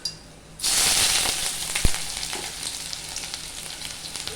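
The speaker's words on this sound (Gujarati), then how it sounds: "ગોલ્ડન બ્રાઉન સુધી આપણે ડુંગળી સાંતળવાની છે" Onions frying in hot oil until golden brown, a loud steady sizzle that starts abruptly and continues, with a brief stirring clink partway through.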